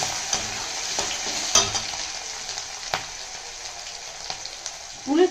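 Mashed yam with ginger, green chillies and curry leaves sizzles steadily in a hot pan while a utensil stirs and scrapes through it, with a louder scrape near the end.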